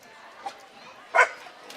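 Dogs in the stands at a minor league ballpark on Bark in the Park night give a couple of short, moderately distant barks and yips over crowd ambience, with a broadcaster talking nearby.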